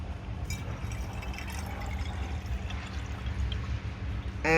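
Rainwater pours into a jar holding lotus seeds: a low, continuous fill with trickles, ending in a brief louder splash, close by and with no talk.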